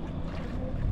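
Strong wind whips across the open sea aboard a fishing boat, a steady, dense rumble of gusts and hull noise with no one talking.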